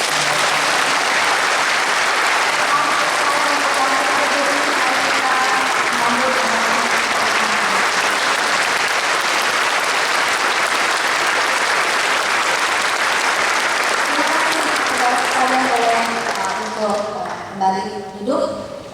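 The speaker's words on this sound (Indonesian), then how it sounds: "Mari kita berikan aplaus." Congregation applauding at a pastor ordination service, a loud sustained wash of many clapping hands, with talk underneath throughout, fading out toward the end as a voice speaks more clearly.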